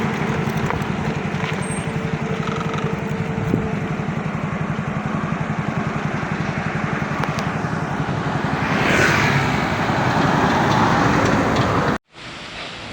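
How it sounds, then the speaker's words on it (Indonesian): A Canter truck passes on a main road between Payakumbuh and Bukittinggi, its engine a loud, steady drone close by that swells near the end before cutting off abruptly. "terpantau lagi di sini ada truk kanter yang melintas yang akan menuju Kota Bukit Tinggi"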